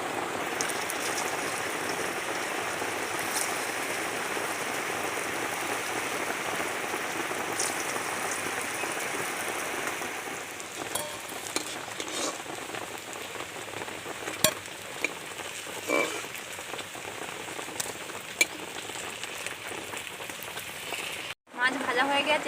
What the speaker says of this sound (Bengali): এবার বাকি মাছগুলোকেও আমি একইভাবে ভেজে নেব।